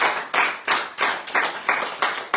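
Steady applause from a studio audience for a guest on a French radio show, with eight rhythmic surges of clapping that swell and fade across the whole stretch, fairly close and with no talk over it.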